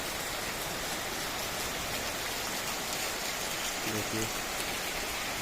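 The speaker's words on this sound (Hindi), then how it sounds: "हर शुभ काम के पहले ये बारिश होती है" Steady rain pours outdoors at a Jai Gurudev vegetarian caravan gathering, a dense, even hiss throughout, with a brief spoken word near the end.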